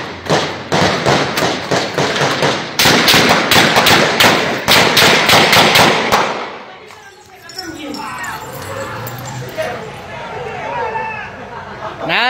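Rapid bursts of gunshots hammer out in dense volleys during an attack on a humanitarian aid truck driver in Venezuela, loud and close for about six seconds, then give way to agitated voices talking amid street noise.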